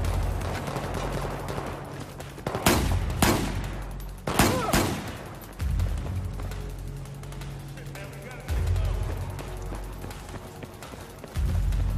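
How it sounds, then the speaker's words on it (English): Gunfire in Battlefield 4, with several loud bursts of shots in quick succession over a rumbling battlefield background. "Where am I getting shot at?"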